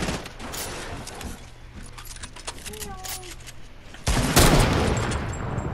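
Video game gunfire in Fortnite, scattered shots crackling through the mix under a steady game hum, with a louder burst near the end as a voice talks over it.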